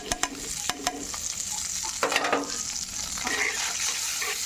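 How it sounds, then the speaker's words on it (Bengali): Spices fry in oil for a prawn, potato and eggplant curry, with a loud continuous sizzle and quick spatula scrapes and taps near the start. "তেল ওঠা পর্যন্ত মশলা সুন্দর করে কষিয়ে নেব।"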